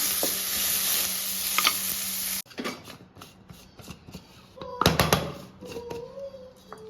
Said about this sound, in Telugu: సిమ్లో పెట్టేసి స్లోగా కుక్ అవ్వనివ్వాలి వీటిని